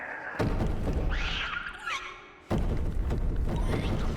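Loud, heavy thuds of someone banging on a door in a horror game, two sustained bursts of pounding separated by a quieter stretch of eerie tonal ambience.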